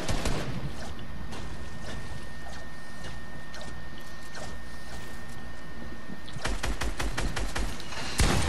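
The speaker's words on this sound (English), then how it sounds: "I'm being shot by my own teammates" Call of Duty gunfire in a multiplayer match: a steady, loud wash of rattling shots and mechanical clatter, ending in a sharper cluster of close, rapid bursts near the end, with no talk over it.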